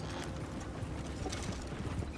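Horse hooves clip-clop at a steady trotting rhythm in Red Dead Redemption 2, close and continuous over low ambient game sound, with no talking.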